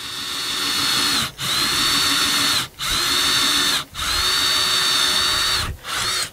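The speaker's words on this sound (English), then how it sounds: "I'll go ahead and drill all the way through the back of that conduit." A power drill bores through the back of a conduit into wood, whining loudly in four sustained bursts separated by short pauses as the trigger is released, with no talking.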